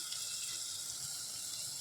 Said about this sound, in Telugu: కొద్దిగా వాటర్ పోసుకున్నాం